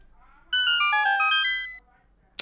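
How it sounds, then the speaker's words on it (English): A short chiming jingle of rising bright tones plays once, like a Zelda video game puzzle-solved cue, clean and close, lasting about a second and a half before cutting off. "it's a Zelda puzzle noise"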